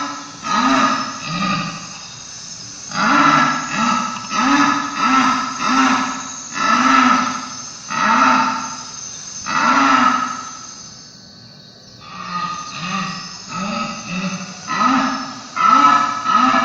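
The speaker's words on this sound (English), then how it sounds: "Let's hear this jaguar female roaring in heat." A female jaguar in heat calls in a loud, rhythmic series of deep grunting roars. The coughing, sawing bursts come in regular pulses with a brief pause partway through, heard close and alone.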